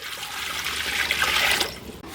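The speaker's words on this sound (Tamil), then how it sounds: "பருப்பு வேகிற அளவுக்கு தண்ணி ஊற்றிக்கிடுவோம்" Water poured into a cooking pot for boiling lentils for sambar, a continuous close splashing stream that swells midway and then cuts off near the end.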